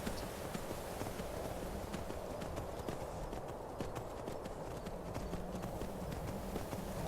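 Rapid clip-clop of a horse galloping in the video game Skyrim, a continuous hoofbeat rhythm under a dense, steady game soundscape.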